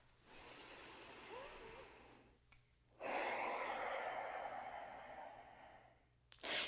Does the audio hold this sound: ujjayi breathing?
yes